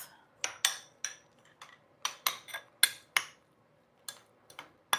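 Spoon or utensil clinking and scraping against a bowl while stirring a cottage cheese mixture seasoned with salt and pepper, a run of sharp, close taps and knocks at uneven intervals with quiet gaps between.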